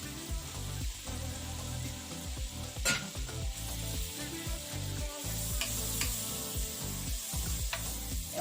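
Half a stick of butter sizzles and crackles steadily in a skillet, a dense, even frying hiss with a few scraping stirs.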